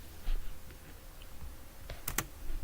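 Password being typed on a computer keyboard: a few scattered soft key taps followed by two sharp, louder clicks close to the microphone, no voices.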